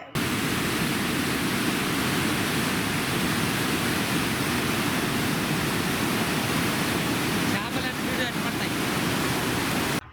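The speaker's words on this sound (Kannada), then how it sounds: "ತುಂಗಭದ್ರಾ ನದಿಯಲ್ಲಿ ಅಧಿಕ ನೀರು ಹರಿಯುತ್ತಿದೆ ಬಂಡ ಅಣೆಕಟ್ಟು ಸಂಪೂರ್ಣ ಭರ್ತಿಯಾಗಿ ಹರಿಯುತ್ತಿದೆ" The full Rajolibanda dam on the Tungabhadra river overflows in a loud, unbroken roar of rushing water that fills the whole stretch at close range.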